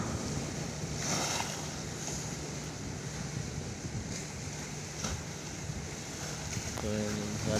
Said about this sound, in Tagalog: So malakas yung hangin ito, ano. So yung alon dito mga par.